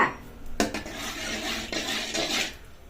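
Dry ginger powder stirred into hot gingelly oil in a pan, a spoon clinking and scraping against the metal a few times over a soft hiss, close and without voices.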